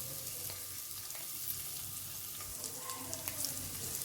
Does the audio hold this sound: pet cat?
no